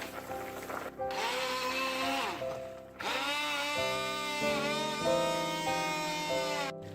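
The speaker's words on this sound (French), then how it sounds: "je vais les mixer à la blender" A blender whirs steadily as it purées cooked carrots into a velouté soup, its motor pitch shifting and rising as it works through the mixture. The sound runs continuously, with brief dips.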